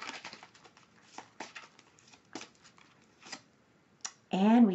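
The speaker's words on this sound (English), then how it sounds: "As I shuffle the deck" A deck of oracle cards is shuffled in a run of soft, papery riffling bursts at close range, and a voice briefly sounds at the very end.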